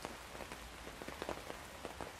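Rain falling on a surface, a soft steady patter with scattered louder droplet hits, fairly quiet and continuous with no voices.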